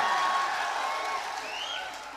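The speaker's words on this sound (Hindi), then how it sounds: "एक बार जोरदार तालियां दिलशाद जख्मी के लिए बजा दीजिए।" Audience at a mushaira in Mohammadi applauding, a steady wash of clapping that fades gradually over a couple of seconds, moderately distant with no talk.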